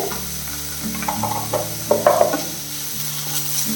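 Ginger garlic paste frying in a pan while cooking egg rice, a steady sizzle with scattered stirring scrapes and small crackles, close and moderately loud, no talking.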